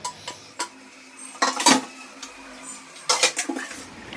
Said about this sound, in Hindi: सिंक में जितना भी बर्तन है सबको क्लीन कर लूँगी।